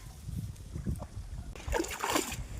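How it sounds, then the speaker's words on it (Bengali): A fishing net is washed in river water with sloshing and splashing that builds partway through, heard up close and fairly quiet over a low background rumble. "জালটাকে ধুয়ে নিচ্ছে দাদা"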